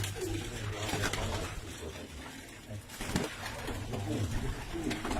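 Pigeons cooing in a bird loft in Baghdad: repeated soft, low, throaty coos in a slow rhythm, fairly close, with some background rustling and handling noise between calls.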